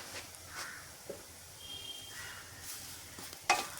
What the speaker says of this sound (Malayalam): നന്നായിട്ട് ഇളക്കി യോജിപ്പിക്കണം.